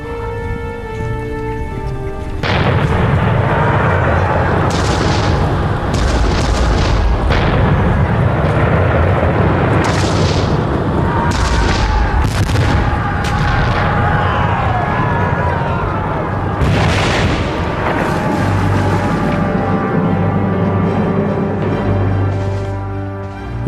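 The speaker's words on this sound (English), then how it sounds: "With his men facing withering enemy fire, Bonaparte was in the thick of it." Cannon and artillery fire in a Napoleonic-era battle led by Bonaparte: repeated loud booms and blasts, dense and continuous, with crackling bursts layered over a steady rumble and no talking.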